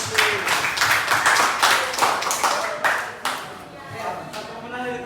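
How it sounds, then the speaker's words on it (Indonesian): Schoolchildren clapping their hands together in a classroom during a teaching practice lesson, loud bursts of uneven clapping rising and falling, with voices heard in between. "tepuk tangan dulu"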